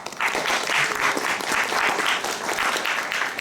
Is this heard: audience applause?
yes